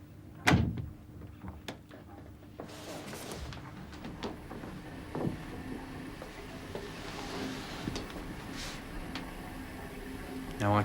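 A bathroom door opening in a 1985 British police drama scene, a sharp close thump near the start, then softer handling knocks and creaks over quiet room tone.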